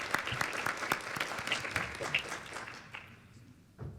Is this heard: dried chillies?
no